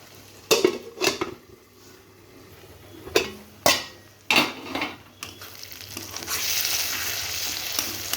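A lid goes onto a pot of simmering tomato chicken curry: several sharp metallic clanks and knocks of pot and utensil, followed by a rising steady sizzle and bubbling from the pan.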